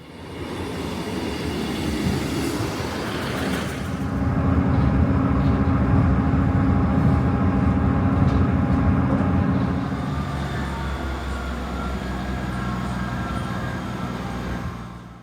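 A train on the Inverness line rumbles past close by at a station near Elgin, Scotland, a loud low roar of engine and wheels that swells in the middle and then eases off.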